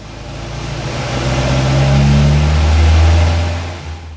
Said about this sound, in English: Dave started by ratcheting the car down, making sure it was super secure, and then gave it an initial run